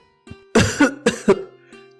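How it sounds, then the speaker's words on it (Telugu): A man coughs close up, two harsh, throaty bursts followed by a softer cough. "దగ్గుతూ హాల్లోకొచ్చాడు"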